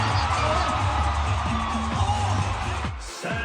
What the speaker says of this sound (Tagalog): Mas lumakas ang hiyawan sa pangmalakasang opening.